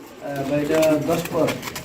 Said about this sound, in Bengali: বন্ধুরা দেখতে পাচ্ছেন নতুন কবুতর দশ ফেদা কমপ্লিট